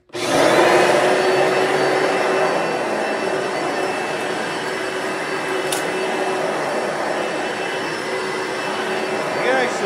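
Kenmore Power Center vacuum cleaner running on carpet, a loud steady whine and broadband roar that holds constant throughout, close to the microphone, with a faint voice underneath.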